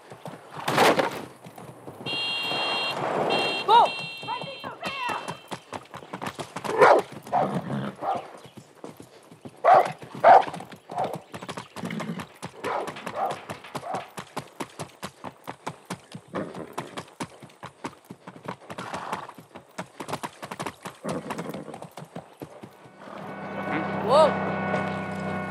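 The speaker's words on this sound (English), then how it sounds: "That's a good horse." A horse in the video game Far Cry 6 gallops with a fast, continuous clip-clop of hooves that is loud and close throughout. Neighs break in now and then, and game voices talk over it.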